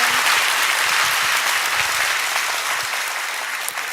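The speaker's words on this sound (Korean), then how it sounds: "다 같이 박수 한번." A lecture audience bursts into dense, loud applause that carries on steadily and fades slightly toward the end, with no talk over it.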